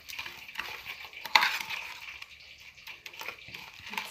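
Breadcrumbs are mixed into egg in a bowl for kebabs, producing soft, faint wet stirring and scraping with one sharper knock of the utensil near the start.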